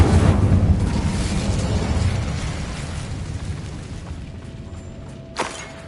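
Incendio fire spell cast in Hogwarts Legacy, a loud whooshing burst of flame with a deep rumble that slowly fades away, followed by a short sharp accent near the end.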